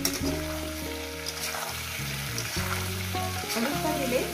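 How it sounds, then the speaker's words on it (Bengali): Cubed potato and papaya fry with turmeric in a pan of hot oil, giving a steady close sizzle with faint clinks, and no one speaking. "এই আলু পেঁপে ভাজার মধ্যে দিয়ে দেবো তোমার হলুদ দিয়ে দিলাম"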